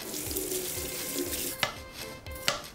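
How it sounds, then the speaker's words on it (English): Water runs steadily from a kitchen tap while a potato is washed under it, with a couple of sharper knocks and splashes near the end. "I'm going to wash and peel the potato."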